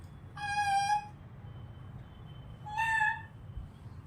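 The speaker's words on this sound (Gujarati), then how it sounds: "આ બિલ્લી બોલે છે મ્યાઉ." A cat meows twice indoors at home, two drawn-out calls about two seconds apart, moderately close, over a low steady background rumble with no talking.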